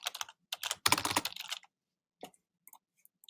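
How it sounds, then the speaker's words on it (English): Typing a name into the sharing field of an online document on a computer keyboard: a quick close burst of clicking keystrokes, then a pause and a few scattered single taps. "you could type someone's name in"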